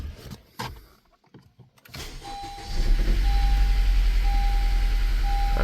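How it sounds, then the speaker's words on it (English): A car with a cylinder misfire and a lit check-engine light starts up. A few clicks and a short whir come first, then the engine catches into a steady low idle while a chime tone repeats. "So we are going to start the vehicle."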